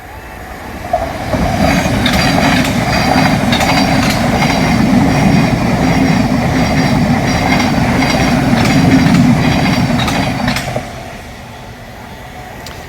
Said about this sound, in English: The train coming in a moment. It's coming from that way.